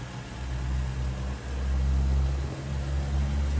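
A 3.5 liter V6 in a 2012 Honda Pilot EX-L SUV idles with a steady, low, even hum, close by and fairly quiet, with no voices over it.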